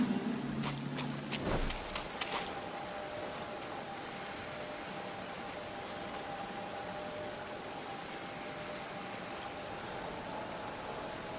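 Steady rain falls in Genshin Impact, a soft, even hiss that runs unbroken after a brief burst of louder sounds at the start, faint and constant with no talking.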